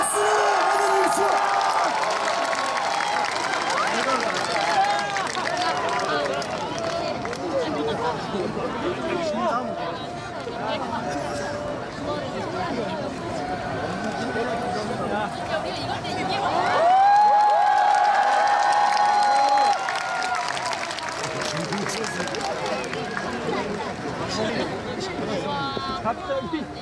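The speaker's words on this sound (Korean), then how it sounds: "박수 받아주십시오" A crowd at a political rally or march applauds and cheers as a speaker arrives, a dense continuous roar of clapping, shouts and chatter with amplified voices over it.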